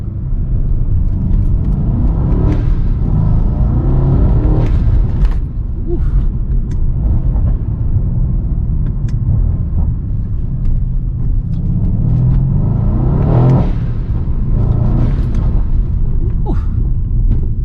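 A loud, continuous Mercedes-AMG C63 S engine rumble through aftermarket intakes, heard from inside the car, swelling a few times as it revs and accelerates, deep and throaty throughout.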